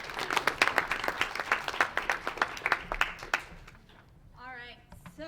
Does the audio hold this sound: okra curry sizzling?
no